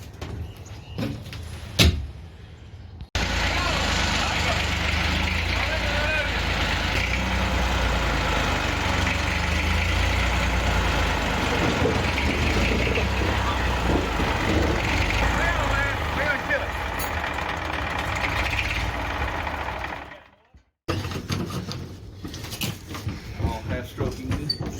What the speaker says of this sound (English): This is a Fordson Dexta, somewhere around 1960 model, about 32 horsepower.